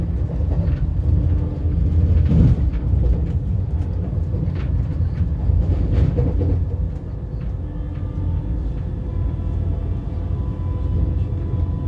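A Vande Bharat Express train running at about 110 km/h between Pune and Kolhapur, a continuous deep rolling rumble with faint rattles and clanks, heard steadily from on board.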